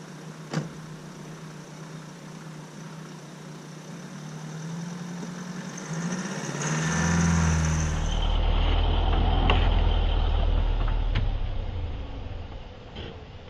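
A car engine idles, then strains and rises into a heavier low rumble as the vehicle drives off slowly to pull and lift a roundwood timber shed frame, with a few faint knocks and creaks over the engine.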